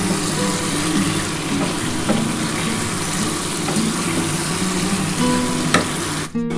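Goat meat sautéing in oil in a wok, a steady loud sizzle and crackle with occasional scraping stirs, close up, then a brief clatter at the very end; no talking.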